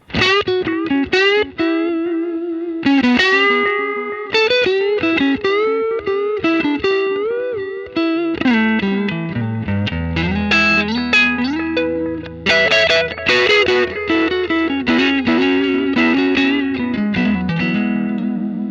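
Electric guitar through an Xotic Effects RC Booster pedal plays clean-toned melodic lines with slight grit, loud and sustained, with single notes and chords ringing out.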